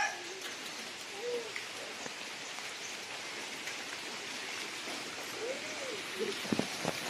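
Heavy rain and wind in Talisayan, a continuous hiss of rain on surfaces with gusty swells, a few sharp knocks near the end, and faint voices in the distance.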